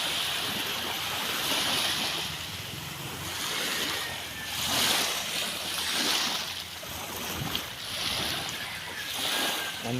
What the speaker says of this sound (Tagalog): Nagupit kami ng matinding ulan at hangin dito sa Burias